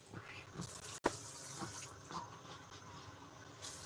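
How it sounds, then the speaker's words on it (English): Water poured into a cooking pot while making hareesa, a soft running splash at low level with a brief sharp knock near the start, continuing quietly to the end. "I'm gonna add some water now."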